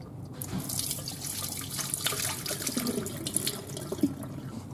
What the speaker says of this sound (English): replace the water in the bowl and then add the balls back in to rinse